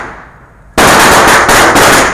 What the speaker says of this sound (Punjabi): ਪਹਿਲਾ ਪਟਾਕਾ ਮੇਰੇ ਤੋਂ ਸ਼ੁਰੂਆਤ ਹੋਈ ਆ